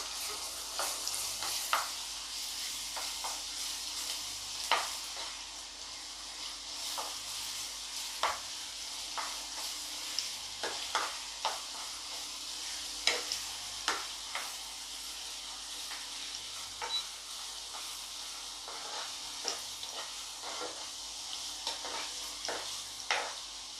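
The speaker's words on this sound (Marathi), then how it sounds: "आलं लसूण पेस्ट आपण 2 मिनटं परतून घेतलेलं आहे." Ginger garlic paste sautéing in a pan for Konkani-style chicken, with a steady soft sizzle and hiss under scattered scraping stir strokes, close and moderately quiet, no talking.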